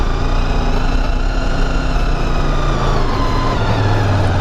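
A car climbing the steep, narrow Hardknott Pass holds first gear, its engine droning loud and close with a steady rising strain and no speech over it.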